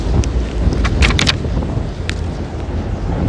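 Wind buffeting a microphone outdoors, a constant low rumble with brief gusty bursts and crackles, loud and close with no voices.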